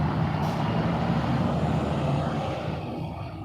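An Epastar Tronton truck idling and moving through a bus terminal in Palembang in the morning, a steady low engine rumble close by, with a brief hiss near the start and the sound easing slightly toward the end.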